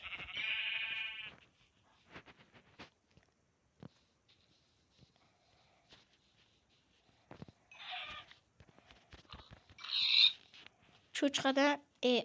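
Sheep in a survival video game bleat in short nasal calls, one near the start and several more toward the end, with clicks and small game sounds between them and no talk.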